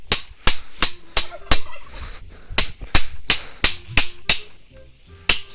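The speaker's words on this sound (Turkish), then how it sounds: "Bakın hindi mindi var burada. Şu hindi göstereyim size." A turkey in a village yard gobbles, with sharp, loud, rattling calls in quick succession, near and repeated about a dozen times over a few seconds, with no voices.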